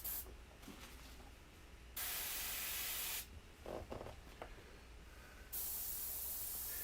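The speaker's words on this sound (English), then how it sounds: "This airbrush, even though it looks like this, is a double action airbrush." A double-action airbrush sprays gray paint in long, steady hissing bursts separated by short quieter pauses, loud and close.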